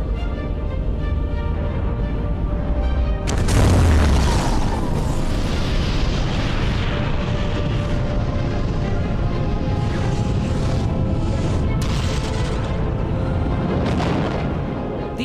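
A huge explosion effect depicting the planet Theia striking Earth: a sudden loud boom at about three seconds, then a long roaring rumble with further crackling bursts that fades slowly.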